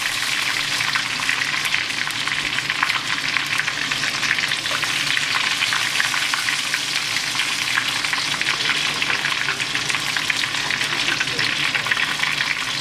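Ribeye steak sears in hot oil and rendered fat in a pan, giving a steady, close, dense sizzle and crackle throughout with no pauses.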